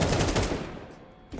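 Rapid automatic AK rifle fire in a video game, a dense, loud burst of shots that trails off into a quieter rumble, with a brief thump near the end.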